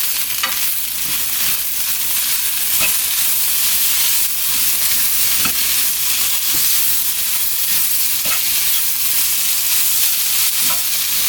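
Spinach sizzles steadily as it is stir-fried in a hot pan, with a constant hiss and occasional soft clicks and scrapes of stirring. No voices.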